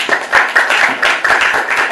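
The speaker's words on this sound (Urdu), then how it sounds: "ان کی تالیاں بجائیں" Audience clapping for a child on a children's show, a steady burst of applause with overlapping claps throughout.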